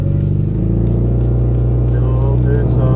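Supercharged 840-horsepower engine of a Dodge Challenger SRT Demon revving in a loud, steady, close-up roar with a deep low rumble and rising pitch toward the end.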